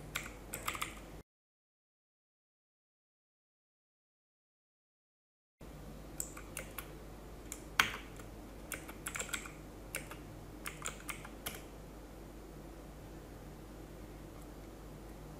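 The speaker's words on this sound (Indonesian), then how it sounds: "Ketikkan perintah seperti ini" A command is typed on a computer keyboard during Debian 10 server setup: scattered, close keystrokes in irregular bursts with a few louder taps, over a faint steady hum. A brief stretch of complete silence falls early on, and no one speaks.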